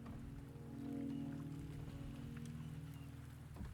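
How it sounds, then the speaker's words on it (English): Rain falls steadily in Wuthering Waves, a soft even patter under a droning low hum, with a faint swell partway through. "The rain is subsiding."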